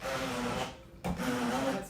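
A stainless steel immersion hand blender whirs steadily through chickpeas, pausing briefly in the middle before starting again at a constant motor pitch.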